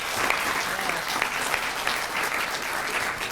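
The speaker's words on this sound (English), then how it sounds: "So if we could please give him a round of applause." Audience applause at a city council meeting, dense steady clapping from the room filling the space evenly for a few seconds, with faint voices underneath.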